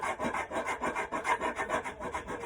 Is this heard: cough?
no